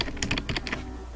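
Quick keystrokes on a computer keyboard come in a short, close burst of about half a dozen light taps, then stop.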